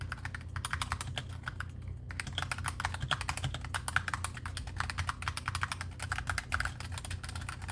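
Rapid keystrokes clatter on a Razer Huntsman Mini mechanical keyboard, close and continuous, with a brief pause before the fast typing resumes.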